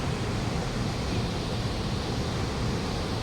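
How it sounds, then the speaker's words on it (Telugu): The Saraswati river near its source in Uttarakhand, heard as a steady, dense rushing of flowing water that stays constant and loud throughout, with no talk. "చూస్తుంది ఇదే సరస్వతి నది"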